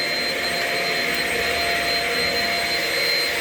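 A Shark Rocket vacuum cleaner runs with a steady, loud, whining drone and high-pitched hum, unbroken and close, with no voices.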